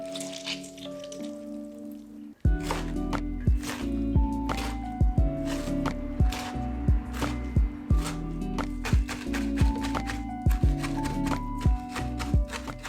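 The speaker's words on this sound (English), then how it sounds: "just squeezing out some of that liquid" Chopped bok choy is squeezed by hand to press out its liquid, giving a series of wet squishing squeezes with drips, repeating roughly every second, close and fairly loud, with a faint musical tone beneath.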